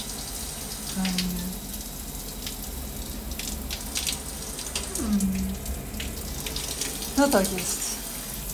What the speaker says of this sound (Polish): A, ciepła woda jest, ciepła woda i nie ma limitu.